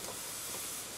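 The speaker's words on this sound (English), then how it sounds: "it's pushing steam, really warm water" Steady warm steam hissing from a kettle-fed steamer used to humidify a 1957 Roy Rogers guitar, a continuous broadband rush close to the mic with no talking.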